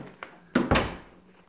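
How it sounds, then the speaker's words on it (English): A door is swung shut after a deadbolt and striker plate are installed, giving a few light knocks and then two loud, close wooden thuds with a short fading tail, with no talking. "I shut the door here"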